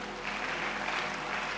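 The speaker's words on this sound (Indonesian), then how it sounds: "Tepuk tangan Tuhan kita." Steady broadband applause from a church congregation fills the moment, even and sustained, with no voices standing out above the clapping.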